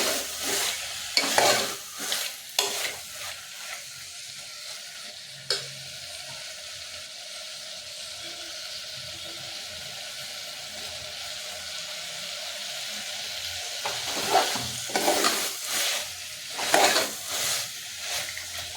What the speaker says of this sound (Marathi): हा धुतलेला राजमा टाकायचा. हे छानपैकी मिक्स करून घ्यायचं.